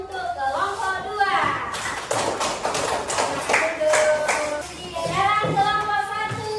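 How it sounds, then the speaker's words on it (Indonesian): A classroom of pupils claps for a group of classmates, a brief clustered patter of hand claps in the middle, framed by a teacher's speech before and after. "tepuk tangan untuk kelompok 2"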